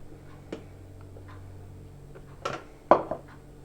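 Whipped egg whites are stirred slowly with a spatula in a bowl, giving faint soft scraping and a few light clinks and taps against the dish, quiet and sparse.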